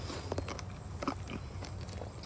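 Close-up crunchy chewing of a cherry tomato, several soft wet bites and squelches in an uneven rhythm over quiet outdoor background, with no talking.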